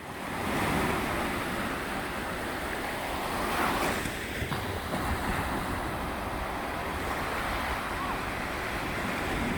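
Ocean waves on the East Sea coast in winter, a steady roar of surf washing in with wind buffeting the microphone, continuous and fairly loud.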